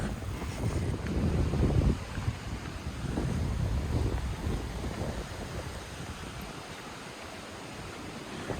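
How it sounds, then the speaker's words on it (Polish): Sea waves rolling onto the beach at Sopot on a windy day, a steady rushing wash with heavy wind buffeting the microphone, loudest early and easing off toward the end, no talk. "Ale fajne fale."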